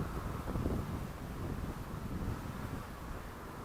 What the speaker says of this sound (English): There is quite a bit of wind